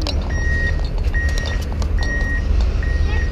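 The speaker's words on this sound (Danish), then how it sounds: "Det er en lastbil, der bakker." A truck backing up gives a steady series of four evenly spaced electronic reversing beeps, each lasting about half a second, over constant traffic and background noise at a Danish amusement park.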